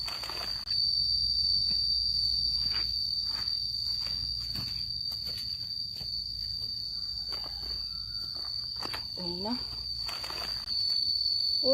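A loud, steady high-pitched cricket trill runs throughout, with faint rustling and a couple of short squeaky sounds near the end.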